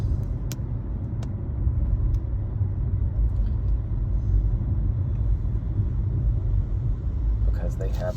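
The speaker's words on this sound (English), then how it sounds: "lots of traffic coming up ahead here" Cars in road traffic on 1st Ave S give a continuous low rumble of engines and tyres heard from inside a moving vehicle, steady and close, with some occasional brief clicks.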